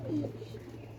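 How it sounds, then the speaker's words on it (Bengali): A single brief, soft coo from a female pigeon of an old breed, close by, over a constant low hum, with no talking. "এগুলো সব মাদি কবুতর"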